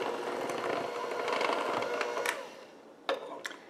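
A stand mixer runs on low speed, beating powdered sugar into royal icing, giving a steady whirring churn with faint scraping for most of the stretch before it quiets, followed by a couple of brief clicks near the end.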